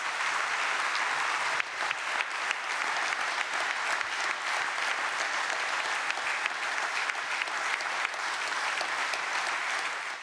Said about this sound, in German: Und daher möchte ich Sie um einen großen Applaus für Karl-Heinz Rummenigge bitten.